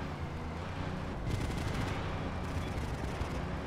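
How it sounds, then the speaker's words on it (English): Sustained gunfire from the video game GTA Liberty City Stories, a dense run of rapid shots that stays loud throughout, intensifying for a stretch in the middle. "I'm too focused on shooting what's behind me."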